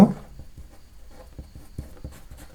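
Pen scratching out a math answer on paper for a mensuration problem, close up, with a run of short, soft, scratchy strokes in an uneven rhythm and no talking.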